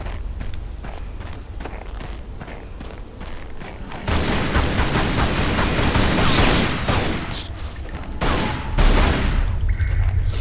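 Repeated gunfire at bats in the video game Tomb Raider, rapid cracking shots bunched into dense volleys that grow louder midway, mixed with scurrying footsteps and scattered impacts.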